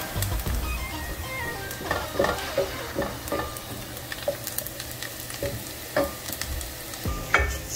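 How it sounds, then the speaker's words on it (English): Onion browning in a frying pan for a mung bean dish, a continuous close sizzle with irregular scraping and tapping of a stirring utensil. "So my onion is browning well here"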